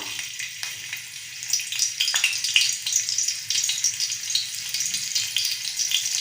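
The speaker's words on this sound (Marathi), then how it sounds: "आता त्यामध्ये 2 लसणीच्या पाकळ्या ठेचून घेतलेल्या आहे, तो सोडूया" Two crushed garlic cloves fry in hot oil, giving a continuous bright crackling sizzle with scattered pops and a few stirring scrapes, close and fairly quiet.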